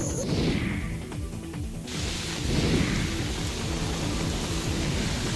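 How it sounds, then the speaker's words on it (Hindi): Heavy rain pours steadily on a Delhi street, a dense, continuous roar with low rumbling thuds throughout and no voices. "दिल्ली में भारी बारिश मुसीबतों का सबब बन गई।"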